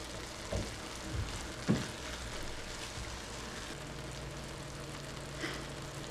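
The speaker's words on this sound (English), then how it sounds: "I'll let that saute for a minute or two to get fragrant." Mushrooms sauteing in a pan give a steady, quiet broadband sizzle, broken by a few soft stirring knocks and scrapes, with a faint low hum running underneath.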